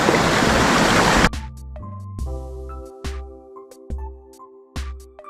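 Clear, cold stream water rushes loudly and close for about a second, then cuts off abruptly as music takes over.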